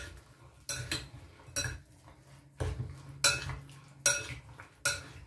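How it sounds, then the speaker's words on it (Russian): Peppers are stirred into a marinade with a utensil in a bowl, giving about six sharp clinking, scraping strokes at a steady rhythm, close and clear over a quiet background. "закладываем наши перчики в заправку. Или в маринад, я бы даже сказала. И все хорошо перемешиваем."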